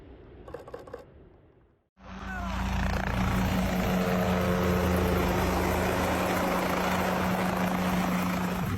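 Close, loud helicopter noise bursts in after a brief quieter stretch, then holds as a steady whine and rotor drone without a break.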